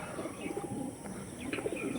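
A female pigeon coos softly and steadily, low murmuring calls repeating close by over a hushed, slightly hissy background.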